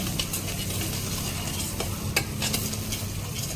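Onions frying in oil as the base for a spicy mutton curry, a steady broadband sizzle with the occasional stir or scrape of the pan, close and continuous throughout.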